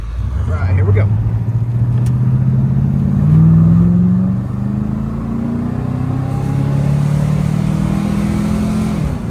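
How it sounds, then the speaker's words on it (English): A 1972 Oldsmobile Cutlass 442 convertible with trumpet exhaust accelerates hard, its deep engine note climbing through the revs, easing off, then rising again, loud and close. "it's got the trumpet exhaust on it. It really sounds good"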